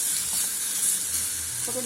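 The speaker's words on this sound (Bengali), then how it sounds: "এই যে পেঁয়াজটা কত সুন্দর নাড়াতে পারছি এবং বেশ লাল লাল মতন ভাজা হয়ে গেছে পেঁয়াজটা" Onion frying and being stirred in a pan over very low oil, a close, steady hiss of sizzling with faint scraping underneath.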